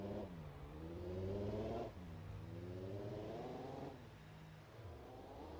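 A car engine in the BeamNG.Drive driving game revs up in smooth rising sweeps, falls back as if shifting, then climbs again several times, a mid-pitched moderate drone with no talking.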